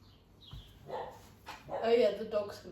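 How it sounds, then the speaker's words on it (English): A dog barks a few times in a home during a vacuum cleaner repair, the short yaps mixed in with a person talking nearby. "the dog's going to start barking"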